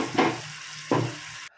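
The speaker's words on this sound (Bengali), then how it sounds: "একটু ভাজা হয়ে গেছে, খুব ভাজার দরকার নেই, মোটামুটি ভাজা হলেই হবে" Vegetables fry in a pan for chicken stew, giving a gentle sizzle with two brief bursts of stirring before the sound cuts off.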